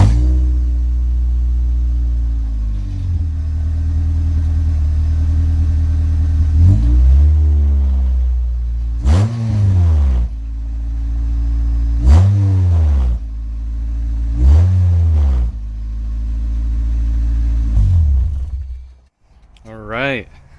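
Car fitted with a Megan Racing OE-RS catback exhaust with the muffler removed: a loud, raspy idle broken by four sharp revs that climb and drop back, each a few seconds apart.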